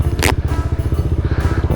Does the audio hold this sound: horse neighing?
no